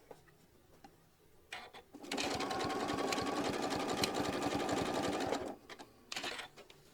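A sewing machine makes a few tacking stitches in place at a quilt's binding, a loud, steady mechanical whir lasting about three seconds, framed by a few faint clicks before and after.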